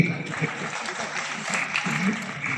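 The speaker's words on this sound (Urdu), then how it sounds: "ایک بار آپ لوگ اپنے لیے تالیاں بجائیں" A seated audience at an Urdu poetry recital claps together in a brief, moderately loud burst, with a voice briefly audible among the applause.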